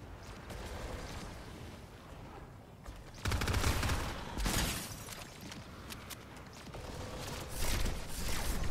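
Rapid bursts of gunfire in a Fortnite match, loud and continuous, with heavier volleys and sharp cracks punctuating a steady background of shooting and game noise.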